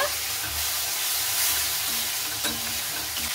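Okra (bhindi) in a pan sizzles and hisses steadily just after water goes in, while a spoon stirs and scrapes through it, close and continuous, with no speech.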